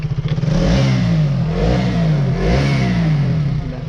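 A motorcycle engine revs up and down in several pulsing surges, loud and close, with a rough mechanical rumble.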